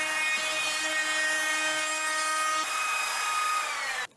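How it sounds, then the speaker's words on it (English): A hand router whines steadily while routing the edges of wooden cutting boards, its high pitched motor tone shifting slightly partway through, close and continuous. "Glide the router along the edges."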